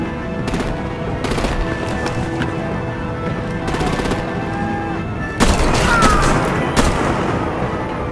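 Sustained video-game combat in Batman: The Enemy Within, with dense rapid gunfire and heavy booms rolling over a constant rumble, intensifying near the end with sharper blasts.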